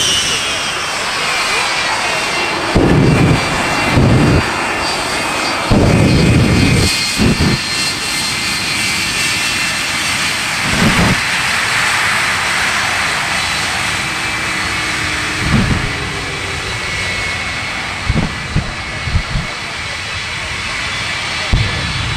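The Shockwave jet truck's jet engines roar continuously and loudly at an air show, a sustained whooshing blast with sharp pops and bangs scattered throughout, while a voice talks over it.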